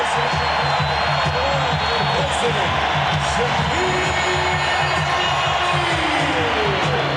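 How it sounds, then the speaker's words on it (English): Basketball arena crowd roaring during an Orlando Magic NBA game, a broad sustained din of cheering and shouting from a large audience, with a commentator talking over it and faint whoops rising above the noise. "Listen to this crowd."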